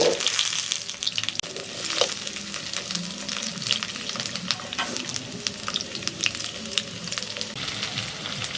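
Potatoes fry in mustard oil in a wok with a close, continuous sizzle and crackle, with occasional stirring and no talk.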